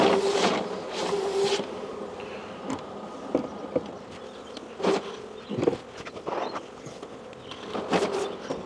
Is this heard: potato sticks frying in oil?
no